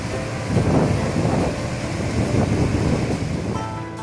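Sea waves wash continuously onto the shore at the Mahe river estuary, a broad, steady roar of surf with gentle swells, close and fairly loud, with some wind rumble across the microphone.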